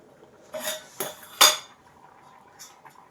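A lid lifted off a pot of cooked lentils, with three sharp metallic clanks of pot and utensils close by, the last the loudest, followed by fainter clinks.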